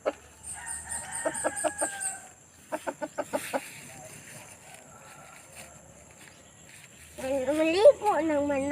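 A rooster crows and hens cluck in short bursts, with crickets and insects buzzing in the background and people talking nearby.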